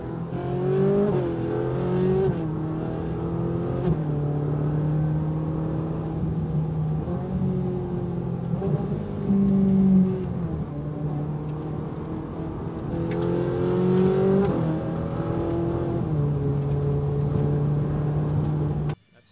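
A Ferrari engine drones in second gear through a hairpin, a steady close-up rumble with repeated rises and falls as the throttle opens and closes, no talk.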